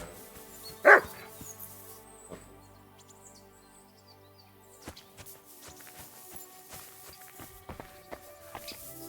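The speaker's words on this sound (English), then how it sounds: "Barking." A single loud dog bark in the video game Kingdom Come: Deliverance II, sharp and near, followed by quiet ambient game sounds, scattered soft footsteps and faint birdsong.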